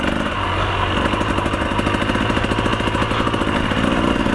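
Motorcycles riding along a dusty forest trail, a steady mid-pitched engine drone with rapid clattering pulses, close and continuous, no voices.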